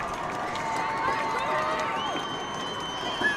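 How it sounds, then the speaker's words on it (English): Loud crowd at a high school football game, Adrian Maples versus Tecumseh Indians, a steady dense roar of cheering voices with whistle-like tones, continuous throughout. "it looks like this crowd is being very loud"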